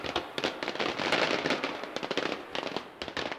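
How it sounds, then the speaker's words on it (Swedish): Fireworks exploding in the video game Generation Zero, a dense burst of crackling bangs and pops in rapid succession, loud and close, with no voices. "Du springer in i fyrverkerierna"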